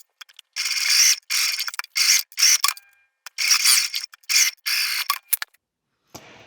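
Sewing machine backstitching around the seam of a small cubic makeup and travel bag: several close, loud mechanical bursts of rapid stitching, stopping and restarting at short intervals, no talk.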